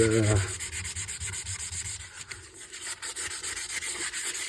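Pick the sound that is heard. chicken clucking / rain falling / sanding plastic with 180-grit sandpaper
sanding plastic with 180-grit sandpaper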